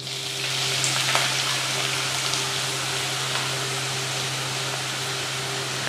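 Finely chopped onions, two medium ones, sizzle steadily in hot coconut oil, a dense continuous frying hiss that stays close and even, with a faint low hum underneath and no voices.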